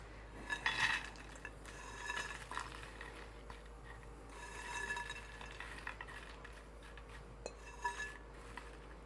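Melted butter swished around in a bowl for an Oreo cobbler, giving soft scraping and clinking of utensil against the bowl in short bursts, close and fairly quiet, with no talking.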